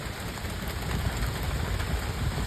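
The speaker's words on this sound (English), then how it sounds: "because it started raining." Steady heavy rain pours during a big storm at Nippersink Creek, a dense continuous hiss and patter with a low rumble underneath, loud and close throughout with no voices.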